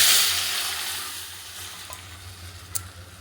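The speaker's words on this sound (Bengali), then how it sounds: "ডালটা ফোড়ন দেবো। আজকে রসুন 2 কোলা, পেঁয়াজ আর একটা শুকনো লঙ্কা" Masoor dal tempered with garlic, onion and a dried red chili in hot oil gives a close, bright, steady sizzle that fades slightly, with a couple of sharp spits or clinks.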